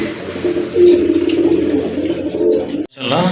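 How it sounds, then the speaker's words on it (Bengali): A pair of pure white Kagji pigeons coo in a steady, low, throaty rolling call, close and continuous, with a brief break near the end before the cooing resumes. "খুবই সুন্দর এক জোড়া কাগজি কবুতর যে দেখতে পাচ্ছেন"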